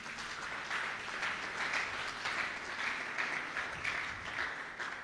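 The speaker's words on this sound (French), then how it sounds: "On peut acclamer le Seigneur." A church congregation applauds the Lord with sustained clapping, a dense even patter of many hands that holds steady throughout, moderately loud and filling the room, no speech over it.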